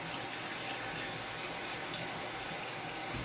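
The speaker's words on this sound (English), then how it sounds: "now we're just gonna mix it with cold water so it won't stick together" Cold water runs steadily from a kitchen tap onto cooked fettuccine in a sink, a continuous close, even splashing rush with no talk.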